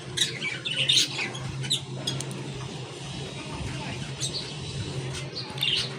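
Small birds chirp and squawk in short bursts, fairly close, over a quiet background with faint clinks.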